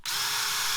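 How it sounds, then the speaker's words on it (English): Electric drill fitted with a hole saw cutting into sheet metal, a loud continuous high whine starting abruptly and holding steady for under a second. "I'm using an electric drill only because it's easier for you guys."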